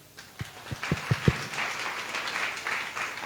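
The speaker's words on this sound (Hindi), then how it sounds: "ताली बजाओ।" A small group claps indoors, beginning with a few separate loud claps and then settling into a softer, continuous patter of applause.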